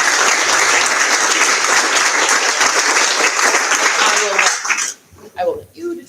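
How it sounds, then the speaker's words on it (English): People at a school board of education meeting give a long, loud round of applause that cuts off abruptly near the end, followed by a brief moment of talk. "Can we give everybody one more big round of applause?"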